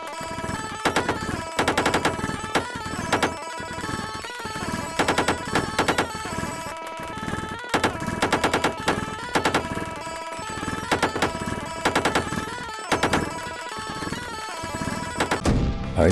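Dense, rapid video-game gunfire fills a Pilgrammed boss fight, with bursts of automatic shots and crashing impacts layered over steady music, continuous and loud throughout.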